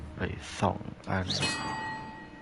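One bell in the Hogwarts Legacy game gives a single clear chime that rings on and fades after a short burst of speech.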